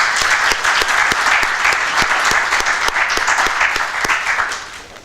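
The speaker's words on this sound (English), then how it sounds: "Can we first give a round of applause for Lone for an amazing." Enthusiastic applause from a crowd at a panel discussion, dense steady clapping that holds strong and begins to thin out near the end.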